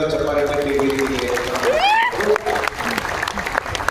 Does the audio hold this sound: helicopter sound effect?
no